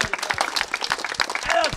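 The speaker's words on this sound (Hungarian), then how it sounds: "Gyönyörű volt, tapsoljuk meg!" An audience at a castle show claps in a lively burst of applause, individual claps distinct, with voices talking and calling out over it.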